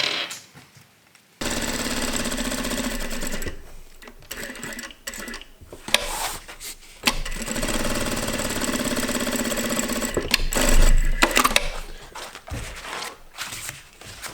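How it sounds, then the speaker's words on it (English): An electric sewing machine runs in fast mechanical bursts, stitching back and forth to make bar tacks on a plate carrier vest, with brief stops and restarts between runs. "Sometimes I'm sewing back and forward to make some bar tacks so it's stronger."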